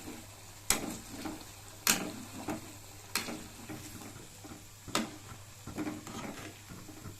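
Ginger and garlic sizzle gently in oil in a pan for mango pickle, with intermittent scraping stirs and soft knocks of the spoon against the pan, close and fairly quiet.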